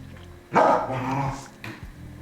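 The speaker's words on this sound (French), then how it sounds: "Ils sont engueulés par le chien." A dog lets out a loud, growly bark, then a shorter second yelp, close to the listener indoors.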